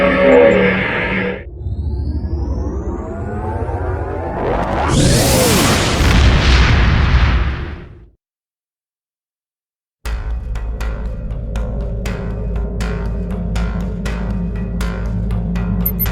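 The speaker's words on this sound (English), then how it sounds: "Rimek detonated a Thaleron weapon in the atmosphere to destroy the Tal Shiar invaders" A Thalaron weapon detonates in the atmosphere in the Star Trek Online video game, a loud booming blast swelling and rumbling for several seconds before cutting to silence, then a steady electronic hum with rhythmic ticks.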